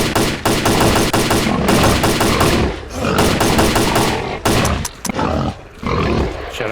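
Rapid, loud gunfire in the shooter S.T.A.L.K.E.R.: Clear Sky, dense automatic bursts with short gaps and a few isolated shots near the end, close and harsh.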